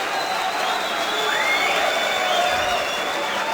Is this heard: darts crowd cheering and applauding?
yes